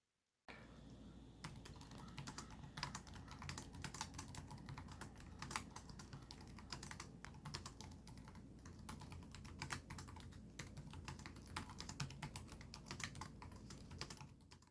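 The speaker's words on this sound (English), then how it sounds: "the sound from typing was enjoyable and far from annoying" Steady rapid typing on the backlit keyboard of an MSI GS63 Stealth Pro laptop with SteelSeries RGB keys: continuous soft clicks and key taps, close and fairly quiet, with no voices.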